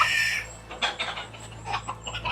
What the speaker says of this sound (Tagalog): Ba't may manok kang dala-dala?